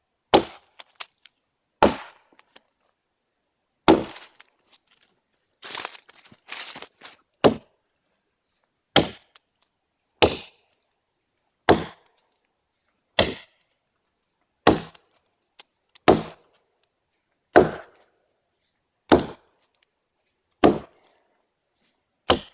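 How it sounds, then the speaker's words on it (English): Dead standing wood is chopped into sections for firewood in a Vancouver Island wilderness camp, about a dozen sharp, loud single strikes spaced a second or two apart, with brief rustling between and no talk. "I'm going to buck a few sections of this up just so I can have some really nice wood for the fire."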